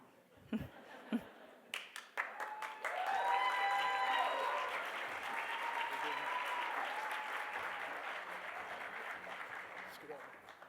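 Audience at an education conference plenary breaking into applause, a few scattered claps first, then a full sustained round of clapping that slowly thins out, with voices over the claps.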